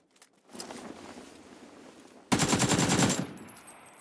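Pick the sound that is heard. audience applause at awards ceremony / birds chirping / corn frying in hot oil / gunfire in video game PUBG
gunfire in video game PUBG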